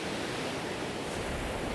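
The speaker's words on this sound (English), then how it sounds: "Got the sound of the sea. Look at these waves coming in." Sea waves rolling in on a Cornwall beach make a steady, full wash of surf, close and continuous with no breaks, and no voices are heard.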